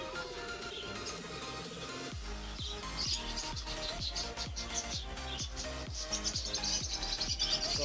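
Lovebirds chirp at a bird market in Arranque, Manila, with a scatter of high tweets over a steady thumping rhythm.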